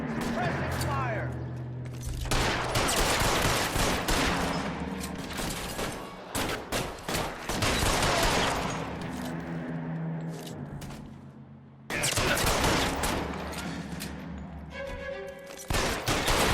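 Gunfire crackles in the video game L.A. Noire, loud close bursts of shots and rapid volleys that come and go in clusters, mixed with in-game voices talking between the firing.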